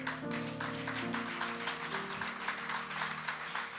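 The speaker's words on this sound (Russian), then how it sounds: "и здесь аплодисменты" A church congregation applauds, a sustained wash of clapping heard fairly faintly alongside steady organ or keyboard chords underneath.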